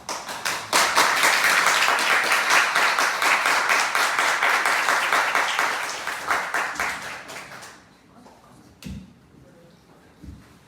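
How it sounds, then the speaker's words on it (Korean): A church congregation claps during a Sunday service, a full, dense round of applause lasting about seven seconds, then fading into a few scattered claps and soft knocks in a quiet room. "나오실 때 큰 박수로 부탁드립니다"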